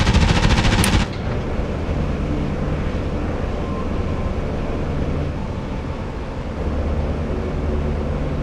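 Enemy tanks firing in a World War-era video game: a sharp rattling burst of rapid gunfire up front, then a dense, rumbling bed of engine and battle noise continuing steadily and loudly.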